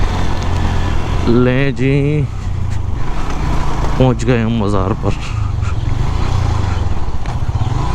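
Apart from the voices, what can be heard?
motorcycle riding up to a shrine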